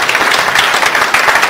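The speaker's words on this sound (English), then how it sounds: "Okay, give Mr. Miller a round of applause." Audience at a live magic show applauding, a brief burst of dense, close clapping from many hands throughout.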